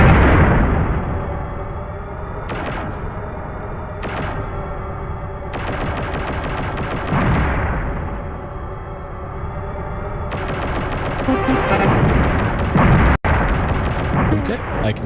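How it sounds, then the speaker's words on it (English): Rapid volleys of gunfire from the PlayStation shooter Shockwave Assault, dense bursts of shots and booms recurring across the stretch, loud and continuous with short breaks, over a steady game soundscape. "That's a lot of shots all at once"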